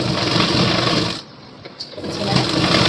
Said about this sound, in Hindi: देखो अब मैं यहाँ से इसे सिल दूँगी पहले